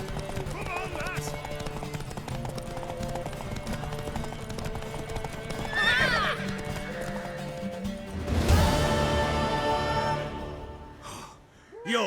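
Hooves clip-clop quickly as a horse gallops in The Witcher 3, with a snort or whinny partway through and a louder burst of hooves near the end, while characters talk and cheer over it.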